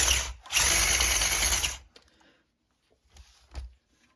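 A TF2 electric bike motor revs at quarter throttle indoors, a loud, high whine that lasts over a second and cuts off, followed by a shorter, quieter burst of spin-up near the end.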